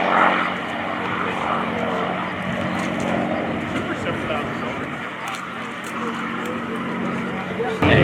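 Sustained propeller drone of a P-51 Mustang warbird performing an inverted roll at the Abbotsford International Airshow, steady and moderately loud from a distance, with crowd and speech mixed underneath throughout.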